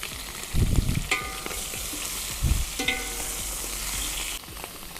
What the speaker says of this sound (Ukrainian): Тільки погляньте, як чудово румяняться ці шматочки.